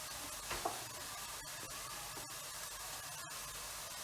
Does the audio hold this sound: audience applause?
no